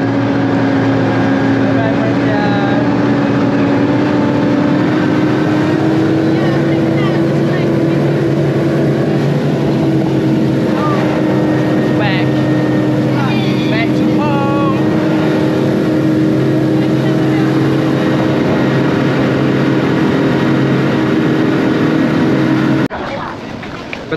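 Motorboat engine running on the sea off Pulau Perhentian: a steady, droning hum that holds nearly throughout, with people talking and calling over it, before it cuts off near the end.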